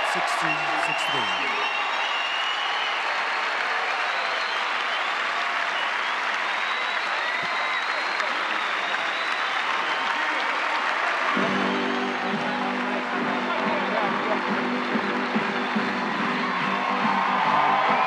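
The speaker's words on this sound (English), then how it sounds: "let's have one more round of applause for Martina Navratilova and Bob Bryan" A large US Open tennis crowd applauds Martina Navratilova and Bob Bryan, sustained dense clapping with scattered whoops and cheers filling the stadium, steady and loud throughout, with a low rumble joining toward the end.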